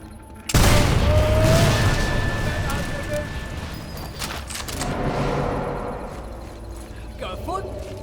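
A grenade explodes in the video game Sniper Elite 4 with a sudden loud boom, then a long rumbling decay and a second swell of debris noise; a voice is faintly present.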